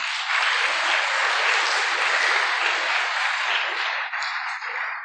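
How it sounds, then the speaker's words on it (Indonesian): An audience at a religious gathering applauds a named elder, giving a loud, continuous wash of clapping that holds steady, then falters briefly before settling again. "Tepuk tangan untuk Pak Ahmad Salam"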